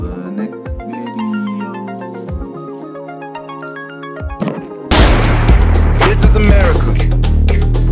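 Fourth of July fireworks burst in a loud, rapid crackling volley that suddenly takes over after several seconds of tonal music, continuing densely to the end.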